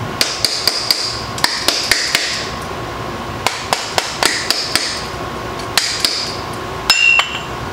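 Sharp metallic hammer taps on a brass drift against an aluminum Triumph TR6 carburetor ring out repeatedly in uneven clusters, bright clinking strikes close by with short pauses between, no talking.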